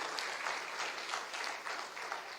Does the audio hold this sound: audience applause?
yes